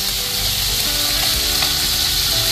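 Loud, steady sizzling and crackling of fish frying in hot oil in a pan, close up, without pause.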